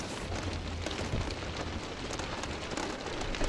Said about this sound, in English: We are getting a little rain.